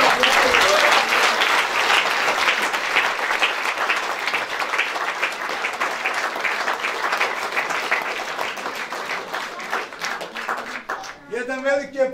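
A church congregation at an ordination service in Leskovac applauds loudly and continuously for about eleven seconds, then a voice begins speaking as the clapping thins.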